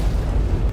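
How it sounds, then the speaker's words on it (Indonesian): Burst of power explosion effect in a donghua animation, a short, loud, low booming blast lasting under a second. "Seketika saja ledakan kekuatan pun berhasil Yang Kai ciptakan."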